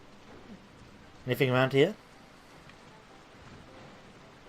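Downpour in the video game Alice Madness Returns, a steady wash of rain with faint thunder rumble running throughout, briefly under a short spoken line from a player.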